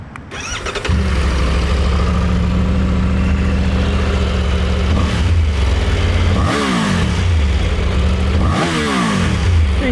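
A 2024 Triumph Tiger 900 Rally Pro motorcycle engine starts, settles into a steady loud idle, then gives two sharp, quick revs that rise and fall fast, close to the listener with no talking.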